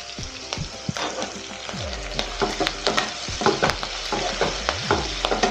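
Green chillies, garlic, ginger, onion and curry leaves sizzle and fry in a hot pan, a steady close crackle broken by the scrape of a spoon stirring, with no talk.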